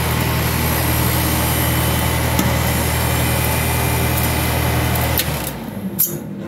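A refrigeration compressor on a cooler runs during a pump down, a loud steady mechanical hum and rumble that holds for about five seconds, then cuts off and winds down into quieter clicks and faint residual noise.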